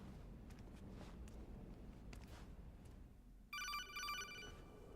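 A codec call ringing in Metal Gear Solid 2 starts sharply about two-thirds through, a bright, rapid electronic ringing tone that follows quieter ambient game noise and soft footstep-like sounds.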